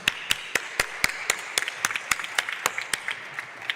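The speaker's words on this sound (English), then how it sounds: "and an applause to Carmen." A summit audience gives a short round of applause for a speaker, with a moderate number of distinct hand claps in an uneven rhythm, close and fairly quiet.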